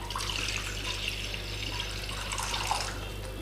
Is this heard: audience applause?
no